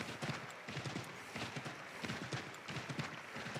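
Horse hooves clip-clop at a steady trotting rhythm in Assassin's Creed III, a soft continuous gallop of game sound heard alone at moderate distance.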